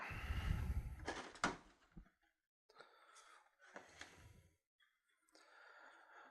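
A Platz-reboxed Tamiya 1/35 M3 Lee plastic model kit box is opened with close, quiet cardboard scrapes, flap rustles and a soft thump, separated by brief pauses.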